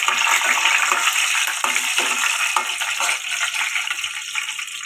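Dried red chillies and lentils frying in hot oil for upma, a steady, loud, close sizzle with crackling spatter that continues unbroken throughout.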